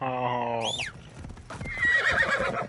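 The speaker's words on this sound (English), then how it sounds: "Alright, I'm riding my horse there." A horse in Assassin's Creed Shadows gives a loud, wavering neigh, followed by quick clip-clop hoofbeats as it gallops, with game ambience and no talking.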